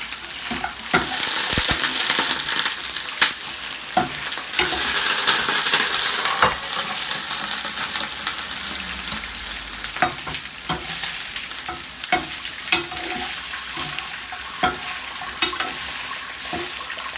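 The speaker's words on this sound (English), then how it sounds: "Just a drop of water in the pan just to saute because I need that little bit brownish" Goat meat sautéing in a pan with just a drop of water, giving a loud, steady sizzle with the scrape and clink of stirring now and then, alone with no talk.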